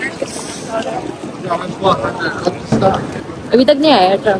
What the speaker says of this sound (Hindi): ओ माय गॉड, क्या हवा चल रही है यार।